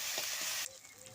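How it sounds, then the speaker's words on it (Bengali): Spice masala for an eggplant and egg dish frying in oil in a pan, a loud close sizzle that cuts off abruptly partway through, leaving a quiet low background. "মশলাটা আমার খুব ভালো করে কষানো হয়ে গেছে"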